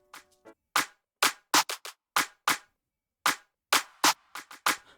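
Afrobeat-style drum pattern programmed in FL Studio, with sparse, crisp percussive hits in a syncopated rhythm and short gaps of silence between them, clear and alone.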